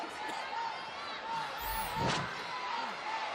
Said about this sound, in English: Look at this full Nelson slamming.